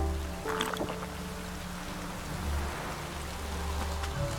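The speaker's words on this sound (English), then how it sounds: "Looks like rain." Rain patters in the video game The Witcher 3: Wild Hunt, a steady soft hiss with a few faint knocks and low rumbling underneath, no voices.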